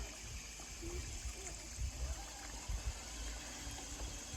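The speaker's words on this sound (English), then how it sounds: "Water." Water in a creek at Fall Run Park flows steadily outdoors, a faint continuous gushing and trickling with some low rumbling bursts, heard alone without talk.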